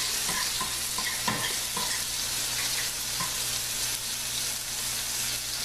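Onions fry in a pan with a loud, dense, constant sizzle up close, and a fork pokes at them, adding light taps and scrapes over the hiss, with no talk.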